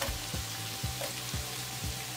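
Green chilies sizzling in a pan with fried onion, ginger and garlic over low heat, steady crackling fry with rhythmic scraping stirs about twice a second.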